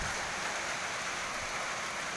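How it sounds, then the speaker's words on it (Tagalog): Heavy rain pours down in a dense, constant hiss, steady and loud throughout with no breaks. No one speaks. "grabe yung ulan din guys"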